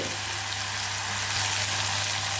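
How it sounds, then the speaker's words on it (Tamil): Tomato and onion base for a spicy tomato omelette gravy sautéing in a pan, giving a steady, even sizzling hiss that runs without a break and stays close. "இப்போது வதங்கிட்டுருக்கு."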